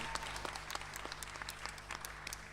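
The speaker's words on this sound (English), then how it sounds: "Big round of applause for yourselves again." Audience at a Scottish youth poetry slam breaks into steady applause, many hands clapping at once in a dense, continuous patter from a room full of people.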